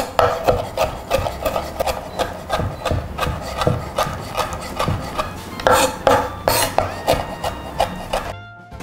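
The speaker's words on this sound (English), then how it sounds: "now I'm going to chop up my greens" A knife chops greens roughly on a wooden cutting board: a steady run of quick, crisp close-up chops, roughly three per second, with no talking, stopping abruptly near the end.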